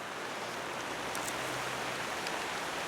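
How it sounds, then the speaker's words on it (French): Steady rain falls outdoors in a garden, a constant broadband hiss of drops with no breaks, faint and even throughout, no voices present. "la pluie, on est habitué, ça nous a manqué beaucoup"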